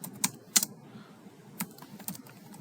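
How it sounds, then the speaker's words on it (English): Scattered keystrokes on a computer keyboard at a desk, a few sharp close taps with short pauses between them over a quiet background. "I'm going to type"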